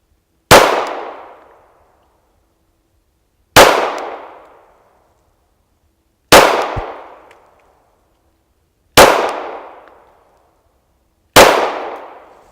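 Five sharp Glock 43 pistol shots ring out on steel plates, each a loud crack with a long metallic ring that fades, spaced about three seconds apart with no talk.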